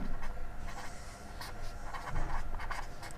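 Pen or chalk scratches out an algebra problem in quick, irregular strokes, close but faint, with a steady background noise underneath and no talk.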